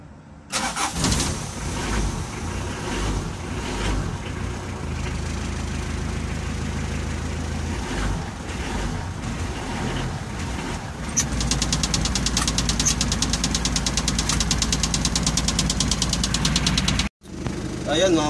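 A Mitsubishi L300 with a 4D56 diesel engine cranks, fires up and settles into a steady, loud clattering idle, with a brief dropout near the end.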